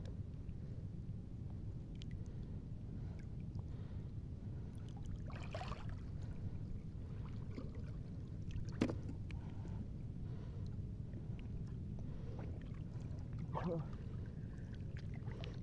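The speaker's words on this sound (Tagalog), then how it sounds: "Ayan ang bangka namin." A small wooden fishing boat moving across open sea, its steady low engine drone and water wash running throughout, with a few brief splashes and knocks and no voices.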